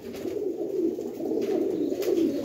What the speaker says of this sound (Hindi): इन्हां कबूतरां दे बच्चे होने ने दोस्तों।